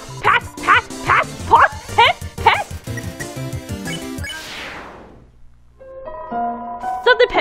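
Barks from a dog character in the Undertale video game ring out in a quick series of about seven loud, close yaps, followed by a sweeping whoosh and chiming game tones.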